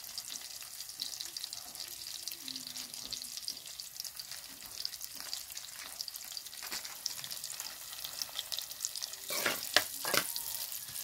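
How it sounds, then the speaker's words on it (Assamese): Onions frying with five-spice in a wok that was used for frying fish. A steady close sizzle runs throughout and swells into louder crackling near the end, with no voices. "মাছ ফ্ৰাই কৰা কেৰাহীতে মই পিঁয়াজখিনি ভাজি ল'ম।"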